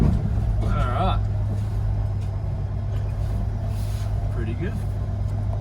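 Engine of a cheap old Australian panel van droning steadily from inside the cab while driving, a loud constant low hum with brief talk over it.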